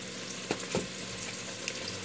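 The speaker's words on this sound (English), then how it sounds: "So we're going to throw the bacon in. Again, this is 4 ounces of diced bacon" Diced bacon, about four ounces, sizzles and fries in butter in a pot, a steady low crackle with a couple of brief louder pops near the start.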